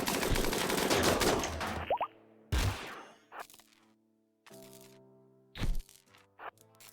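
Sharp gunshot cracks and bursts of gunfire from a RimWorld Odyssey firefight, several loud separate blasts spread across the clip, with quiet stretches and lingering tones between them.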